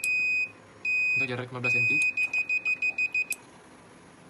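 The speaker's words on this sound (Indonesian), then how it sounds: "bunyi buzzer semakin cepat dibarengi dengan nyala LED yang semakin cepat" A buzzer on a water level monitoring sensor project beeps loudly, first in two long tones, then in a quickening run of short electronic beeps, with a brief spoken phrase in between.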